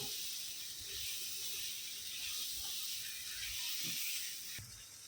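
Prawns simmer in masala on a low gas flame in a home kitchen, giving a steady, soft, close hiss and sizzle that runs throughout, with a brief clatter near the end.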